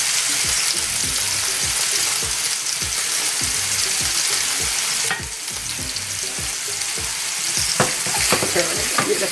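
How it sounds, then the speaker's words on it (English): Food cooks in a very hot pan with a loud, continuous sizzle and crackle, broken by rhythmic scraping and tapping of a utensil throughout. "Now I'm going to allow it to cook 3 minutes here and 3 minutes for the next side."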